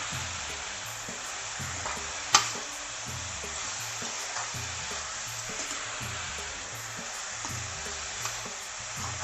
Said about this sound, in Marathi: त्याला पूर्ण मिक्स करून याचा जो पण तो गोळा होत नाही तोपर्यंत याला मी हलवत राहणार आहे.